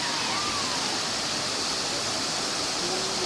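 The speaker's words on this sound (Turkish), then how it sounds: "Aşağıda da şelalemiz var." A steady, loud rush of falling water from the Dokuz Oluk waterfall at Karaisalı, Adana, flowing from troughs, dense and unbroken, with no pauses throughout.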